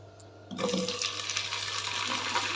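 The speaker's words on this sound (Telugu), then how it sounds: "ఆయిల్ అయితే వేడైంది ఇప్పుడు కొంచెం కొంచెంగా బెండకాయ ముక్కలు ఇందులోకి వేసుకుందాం" Okra pieces drop into hot oil and begin frying for a masala curry, with a sudden burst of sizzling after a quiet start that continues as a steady crackling hiss close by.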